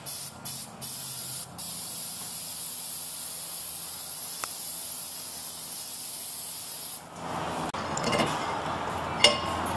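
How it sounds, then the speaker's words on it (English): Aerosol brake cleaner sprays steadily onto brake calipers during a Toyota Sienna brake job, a continuous close hiss that runs for several seconds before breaking off, with clinks of metal parts and handling noise afterward. "That's just brake cleaner, right?"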